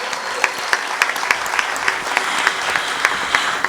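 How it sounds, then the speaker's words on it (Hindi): Loud audience applause at a live music show with a band, a thick, steady wash of clapping with a few sharp, close claps standing out at a regular pace. "जोरदार तालियां।"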